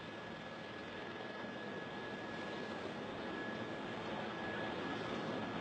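An airplane with failed landing gear lands and slows on the runway, a steady distant engine roar with a constant whine holding evenly throughout.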